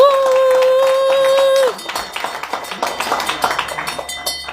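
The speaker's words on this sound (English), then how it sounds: "let us give him a round of applause for that" Audience applause at a devotional gathering: a dense burst of clapping starts about two seconds in and carries on steadily to the end, following a sustained ringing tone.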